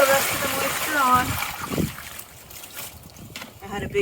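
Water splashes and trickles briefly onto compost in a bin while a person talks at the start, followed by quieter dribbling sounds.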